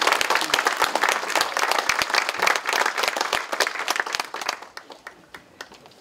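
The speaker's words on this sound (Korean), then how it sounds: "박수 한번 쳐주시기 바랍니다" Applause breaks out at a Democratic Party assembly caucus meeting, many hands clapping steadily and fairly loudly before thinning out and fading in the last second.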